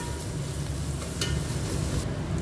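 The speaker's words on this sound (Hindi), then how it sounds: "सो बरें काय मिक्स करा आनी 1-2 मिनटांनी आमकां हें बरें फ्राय करून घेवंक जाय." A big spoonful of ginger garlic paste frying in a pan for a paneer dish, a steady low sizzle with one brief stirring scrape near the middle, moderately quiet and close.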